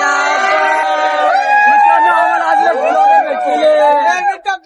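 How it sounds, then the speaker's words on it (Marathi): A dense crowd of trekkers packs a hiking trail at Anjaneri, a continuous close babble of many overlapping voices with shouts and calls rising above the steady hubbub. "इकडे लय गर्दी झाली रे"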